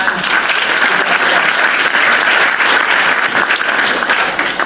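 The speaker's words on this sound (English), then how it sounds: "double round of applause for her" A conference audience at an entrepreneurs event in Nottingham gives loud, sustained applause for Ilona, a full, even roar of many hands clapping without a break.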